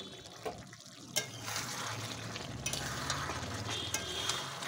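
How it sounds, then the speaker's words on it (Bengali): Cauliflower florets and potato being stirred into a pot of meat curry, with steady close scraping and clinking of a spoon against the pot over a low sizzle, continuous throughout. "এবার একটু নেড়ে আবারও চাপা দিয়ে দেব।"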